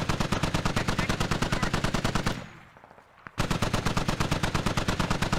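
DShK heavy machine gun firing in the video game Squad: a loud, rapid, steady stream of close automatic bursts that stops briefly for about a second, then resumes at the same relentless pace.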